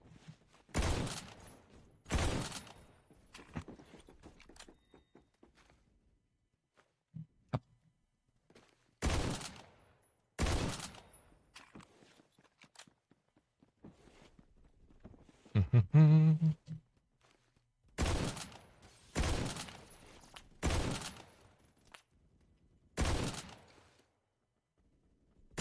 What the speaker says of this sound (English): Go with the Mosin strat. Kind of blind fire around a corner until eventually I get a kill.